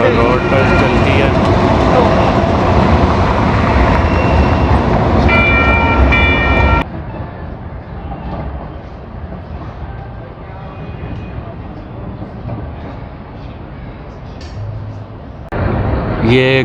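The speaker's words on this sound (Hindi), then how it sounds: "ये यहाँ की ट्रेन जो रोड पर चलती है।" A street-running light rail train passes on a road in downtown Sacramento, a loud, steady rumble with tonal whine that drops suddenly partway through to a quieter roadside hum before swelling again, with talk over it.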